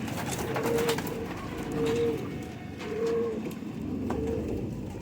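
Pigeons coo in a loft, a Ferozpuri male with a striped pair, giving four soft rolling coos at a steady, unhurried pace, fairly close and low in level with no talk.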